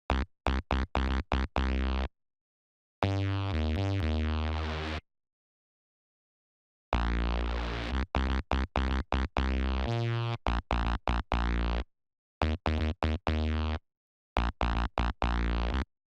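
Supersaw synth patch built in Serum from two saw waves detuned five cents apart, playing a rhythmic pattern of short stabs and sustained chords in a trap-style beat, loud and alone with gaps of silence.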